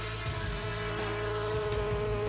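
A steady, dense insect-like buzz of bees hums continuously at even loudness, a droning, layered hum with no pauses and no other sounds.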